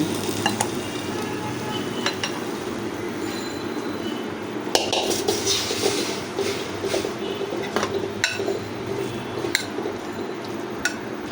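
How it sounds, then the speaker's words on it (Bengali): Cooked food is scraped and tipped from a cooking pan into a bowl. Metal utensils clink and scrape sporadically against the pan over a steady, close background hiss. "বাটির মধ্যে ঢেলে ফেলি"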